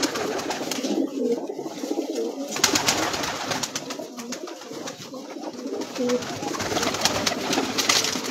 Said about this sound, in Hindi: परवाजी कबूतरों का हम शौक कर रहे हैं।